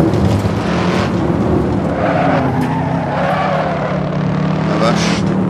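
A Shelby Cobra 427 roars around New York Safety Track, its big engine droning loud and close with tire squeal through the corners, while someone talks over it.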